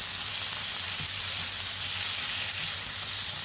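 Onion, garlic and ginger sauté in a pan for a coconut-milk tuna dish, giving a loud, continuous, close sizzle with no talking.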